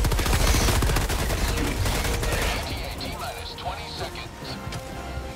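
Rapid bursts from a small pistol-style submachine gun in the Helldivers co-op shooter, loud and close at first, then thinning into scattered shots and impacts while players talk excitedly over the action.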